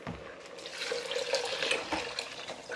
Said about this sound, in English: Now I'm gonna add my coconut milk